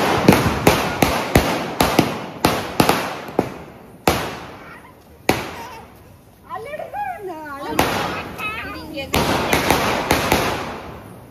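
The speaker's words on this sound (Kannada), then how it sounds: "ಅದೊಂದು ಪಟಾಕಿ ಇಟ್ಟಿದ್ದೀನಿ, ನೋಡ್ತೀನಿ ತಾಳೆ ಯಾವ್ದಂತ." Sharp firecracker bangs burst out in a quick irregular series, loud and close, with a few more pops later among the voices of people talking nearby in a household setting.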